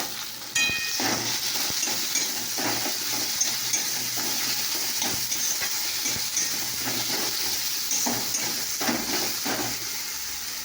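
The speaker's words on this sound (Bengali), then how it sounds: "দেখো এদিকে আদা রসুন পেঁয়াজ কষা আছে" Ginger, garlic and onion sauté in hot oil, giving a steady sizzling hiss that fills the whole stretch, with occasional soft scrapes and clinks of stirring and no voices.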